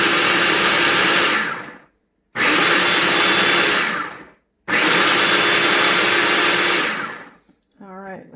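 A kitchen food processor runs in three loud bursts of several seconds each, separated by short pauses, a close, harsh motor whir while making pastry dough for apple hand pies.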